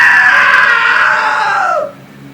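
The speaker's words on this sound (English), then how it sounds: "Now that was a great scream." A loud, sustained scream from a character in the game What Remains of Edith Finch, held for nearly two seconds and then cut off abruptly, with no talk.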